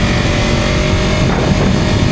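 A Yamaha R25 motorcycle engine drones loudly and steadily close by, a sustained high-revving buzz with a constant tone and no pauses, alone without any talk.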